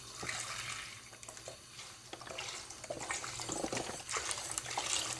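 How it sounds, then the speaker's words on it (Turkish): Milk poured into a pot for Turkish semolina dessert, with a kilo of milk and a spoon of starch going in on a lit stove; a steady liquid gush and splashing runs throughout at close range, no talking. "Bir kaşık nişasta ve bir kilo süt koyuyorum."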